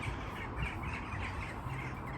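Crows caw near a park bench outdoors, hoarse calls rising and falling over steady background noise without a clear break.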